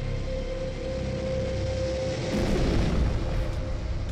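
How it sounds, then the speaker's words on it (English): Deep, booming explosion effect for a large impact on the moon's surface, a sustained rumbling roar that swells louder about halfway through, with a faint steady tone running underneath. "that's a big explosion"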